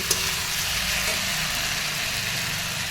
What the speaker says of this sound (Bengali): এটাকে দিয়ে একটু ভালো করে কষিয়ে নিই থেকে গ্যাসের ফ্লেমটা কমিয়ে